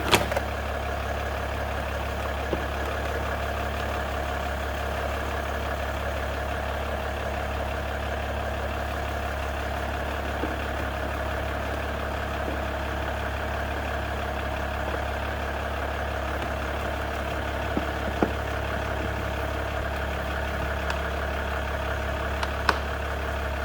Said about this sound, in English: Just going to let the engine warm up now before I change the oil